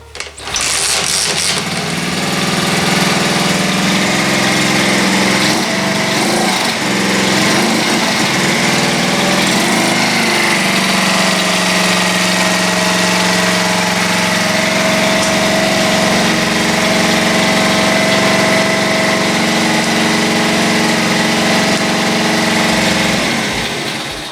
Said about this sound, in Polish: No pokażę Wam jak to odpala.